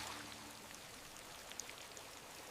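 Rain falls steadily on a man in a generated scene, a soft, even hiss with scattered brighter droplet taps, moderately quiet and continuous, with no voices.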